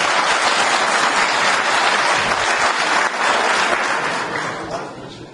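An audience at a Pashto poetry gathering applauding a poet, dense sustained clapping from a full room that holds steady and then gradually thins out toward the end.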